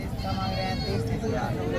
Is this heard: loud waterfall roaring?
no